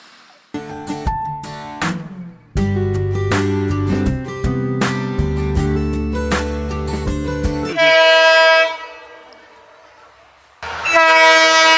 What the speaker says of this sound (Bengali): ওখানে ক্রসিং পড়েছে ঝাঁপ ফেলা আছে এখন ট্রেনটা যাবে